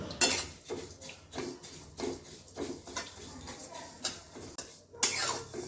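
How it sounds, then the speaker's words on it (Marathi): Flattened rice (poha) dry roasting in a pan, with repeated scraping and stirring clatter of a utensil against the metal and faint crackle, steady irregular strokes close up. "त्याच्यानंतर अर्धी वाटी पोहे भाजून घेणार आहे."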